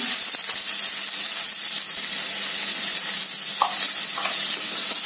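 Potato pieces fry in hot oil for a Bengali Katla fish dish, a loud, steady sizzle and hiss with faint stirring scrapes, close and without talk.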